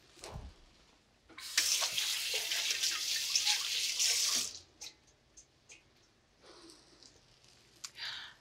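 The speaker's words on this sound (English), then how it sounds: "I'm gonna give my hands a quick rinse." Hands rinsed under a running kitchen tap for a few seconds, a close splashing rush of water, followed by scattered drips and small clinks.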